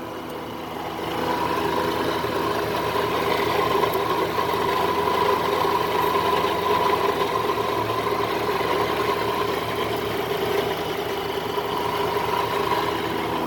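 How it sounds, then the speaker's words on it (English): A 2009 Cadillac CTS-V with a supercharged LSA V8 idles steadily, a constant loud supercharger whine and rattle layered over a low rumble, continuous and fairly loud throughout. "we got a noisy ass supercharger"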